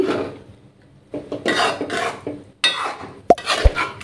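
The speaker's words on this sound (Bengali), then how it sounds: "আমের পাল্পটা মিশিয়ে দিলাম" A spoon stirs mango pulp into sewai, giving soft wet scraping strokes in short bursts, with a couple of sharp clinks of metal against the pot near the end.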